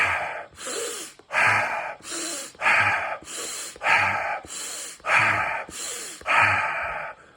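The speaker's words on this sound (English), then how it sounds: "It's a breath in the nose and then out the mouth with this kind of a tempo" Six rhythmic Wim Hof style breath cycles, each a sharp nasal inhale followed by a forceful mouth exhale, paced evenly and heard close up with no talking.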